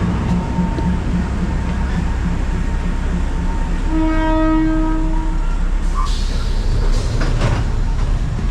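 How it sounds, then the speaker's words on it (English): At the Mae Klong railway market, a train approaches along the tracks with a steady rolling rumble, and a loud horn blast sounds midway. The noise stays dense and close throughout, with no talking. "the train's coming"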